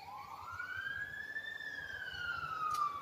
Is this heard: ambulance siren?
yes